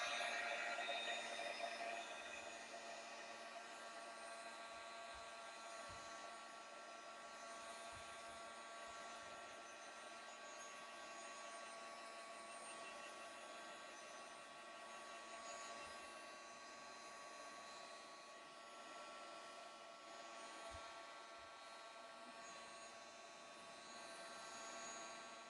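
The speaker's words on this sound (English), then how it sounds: "So we're going to go ahead and heat set this." A heat tool blows steadily as it heat-sets paint on princess wall decor, a faint, constant whirring hum with fixed tones that runs unbroken throughout.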